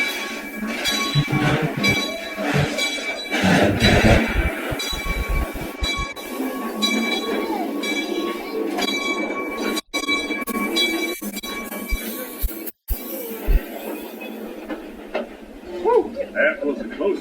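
The Calico Mine Ride train at Knott's Berry Farm rolls and rattles along its rails with rumbling, clanking wheels and squeals, loud and close from on board, under a recorded narration.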